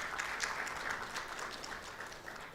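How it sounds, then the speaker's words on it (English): An indoor conference audience applauds the managing director, steady clapping from many hands at a moderate, slightly distant level, holding evenly for a couple of seconds with no voices over it. "Can we please give him a round of applause?"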